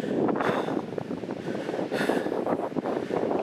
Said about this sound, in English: Wow, is it windy up here